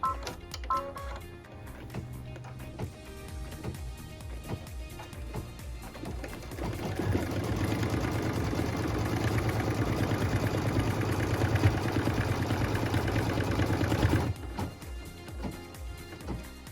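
An embroidery machine stitches a quilted, pieced wall hanging with a steady, rapid mechanical whirring hum that starts after a few seconds of quieter handling noises, runs continuously for several seconds, then stops. It is close and fairly loud.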